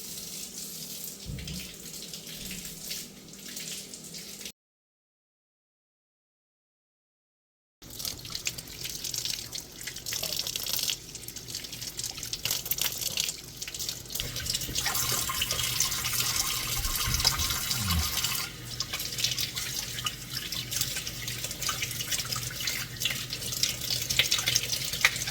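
A kitchen water tap runs steadily as freshly harvested green beans are rinsed before pressure canning, a close hiss of flowing water that cuts out briefly and then returns a little louder with splashing.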